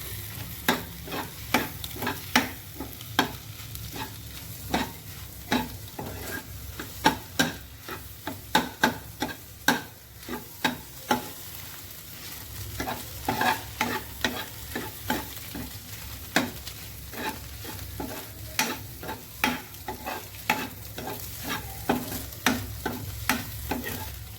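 Food frying in a pan on a home stove, stirred with repeated sharp scraping strokes over a steady sizzle, close and fairly loud, with no voices.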